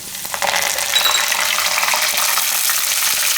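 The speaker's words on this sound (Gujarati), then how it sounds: "આ રીતના હવે એમાં આપણે નાખી દઉં આ મરચાં અને લીમડો" Green chillies and curry leaves dropped into hot oil for a Gujarati pea and tomato curry, a sudden loud crackling sizzle that flares up and then holds as a steady bright spitting hiss, close and without talk.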